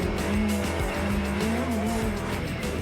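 A Radical SR1 race car, a light 175-horsepower track car, launches off the line with wheel spin, its engine droning steadily at close range with a faint tire squeal running under it.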